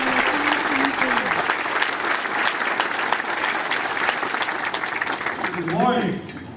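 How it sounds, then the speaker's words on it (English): Audience applause at a military installation redesignation ceremony greets the 3rd Armored Corps Commander, a dense sustained wash of clapping that fades near the end as a voice begins. "please join me in a warm round of applause for the 3rd Armored Corps Commander"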